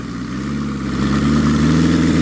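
A motorcycle engine rumbles steadily, its pitch climbing slightly as it revs to around 3,000–4,000 rpm, close and fairly loud with no talking.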